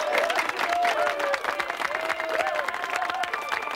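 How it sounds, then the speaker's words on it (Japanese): Audience applause for a newly matched couple at a matchmaking party, a steady wash of clapping from a crowd that runs throughout, with faint voices and a tonal sound underneath. "お二人に温かい拍手を送りましょう"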